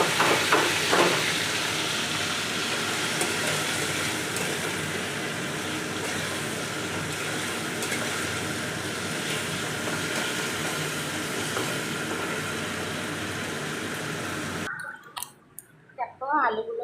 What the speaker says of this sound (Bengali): দেখো আলুগুলো কিন্তু আমাদের লাল লাল করে ভাজা হয়ে গেছে।